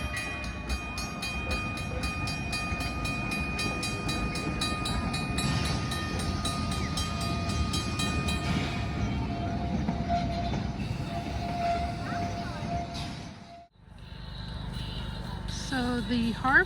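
The historic Glenbrook steam locomotive rumbles steadily past with a long, sustained whistle tone riding over the rolling clatter, then the noise drops away abruptly.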